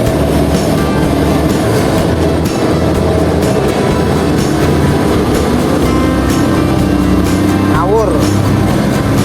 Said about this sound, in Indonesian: Mungkin ada kereta lewat.